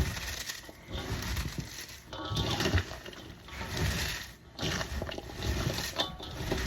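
Wet, squishy crunching and squeezing sounds, steady and close, of salted cabbage being massaged by hand for sauerkraut, with soft patters throughout.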